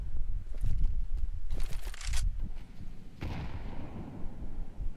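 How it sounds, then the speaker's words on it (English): A grenade explosion amid gunfire in a Counter-Strike esports match, booming blasts and scattered shots rolling together at moderate loudness. "Nice nade on top of Hitori"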